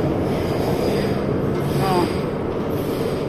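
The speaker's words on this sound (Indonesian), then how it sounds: "baru aja berangkat keretanya." A metro train pulls out of Kennedy Town station in Hong Kong with a steady low rumble and one brief wheel squeal. A voice murmurs once.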